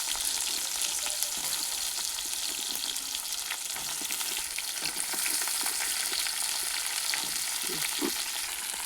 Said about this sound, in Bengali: এবার কড়াইয়ে পটলগুলো ছেড়ে দিচ্ছি